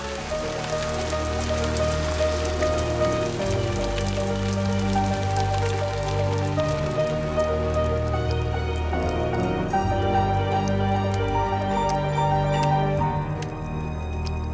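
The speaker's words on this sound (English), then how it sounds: "Acid rain poured from the sky, burning those that had managed to survive till then." Heavy rain pours steadily over a surface, a dense continuous hiss with scattered drips, loud and close throughout with no voices.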